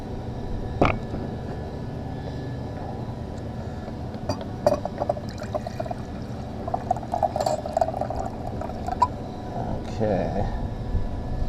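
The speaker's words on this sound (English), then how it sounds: "we are going to add 1 cup of distilled water" Distilled water is poured from a cup into a container to make a shaving brush cleanser, a soft trickling pour with light clinks, partly under background noise and movement.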